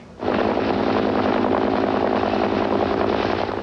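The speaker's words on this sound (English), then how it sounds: "The U.S. military likes to say its AH-1 Cobra helicopter is armed to the teeth." A U.S. military AH-1 Cobra attack helicopter flies during the Gulf War, its engine and rotor a loud, steady, close roar that starts abruptly and holds without talk.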